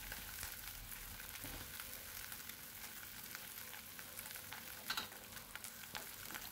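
Meatballs and spring onion fry with garlic in a pan, giving a quiet, steady sizzle with light crackles and an occasional soft scrape of stirring.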